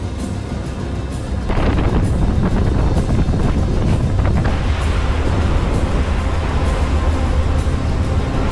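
A sailboat running both engines against strong wind near Isla Owen, loud continuous wind buffeting and rushing water over a steady engine drone, growing heavier after the first second and a half.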